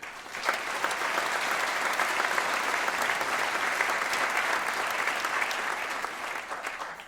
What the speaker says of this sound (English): Please give a round of applause for Kim Minkle, Executive Director of the NFTA.